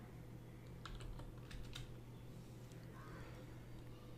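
Typing on a computer keyboard into a browser search box, a quick burst of soft close clicks followed by a pause and a few more faint taps over a low, steady background hum.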